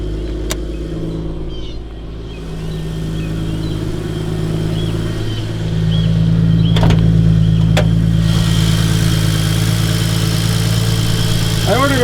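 A stock 2JZ engine in a Toyota Supra MK3 idles in a steady, deep low rumble throughout, close and loud, with brief speech over it.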